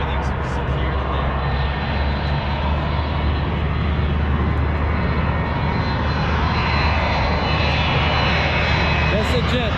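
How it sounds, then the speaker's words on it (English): Jet aircraft flying overhead near a small airfield in Colorado, a loud steady engine roar holding throughout, with voices talking over it. "That's a jet"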